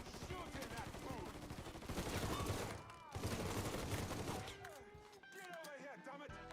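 Gunfire in the video game Mafia 3, a dense burst of shots packed together through the first half, then sparser crackling amid game noise, with voices talking over it.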